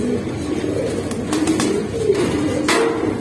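Caged pigeons coo in low, soft, repeated calls close by, over a steady rustling background.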